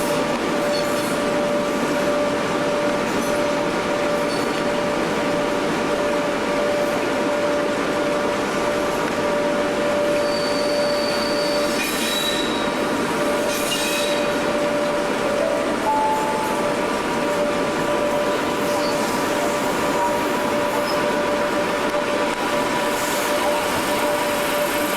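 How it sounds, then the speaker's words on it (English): A locomotive-hauled local passenger set, with class 87 electric 87030 at the rear, rolls into London Euston; a steady, loud rumble of wheels and engine with a constant whine runs throughout, with occasional faint squeals. "Another local hauled set arrives into Euston, with 87030 on the rear."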